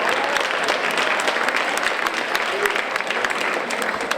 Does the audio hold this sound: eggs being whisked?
no